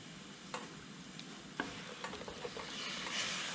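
A spoon stirs Yemeni saltah in a pot after vegetable broth is added over raised heat, with soft scraping strokes and a few sharp knocks against the pot over a steady low simmering hiss.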